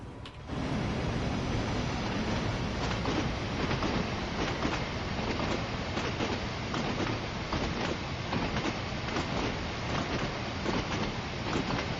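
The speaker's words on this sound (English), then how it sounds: "I love the sound of the train going over the point work." A train in the Train Sim World 2 video game rumbles steadily over point work, with a continuous loud roll and repeated rhythmic clicks and clatters as the wheels cross the rail joints, heard from close by.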